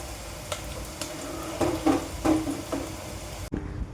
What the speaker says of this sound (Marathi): तर इकडं कांदा परततोय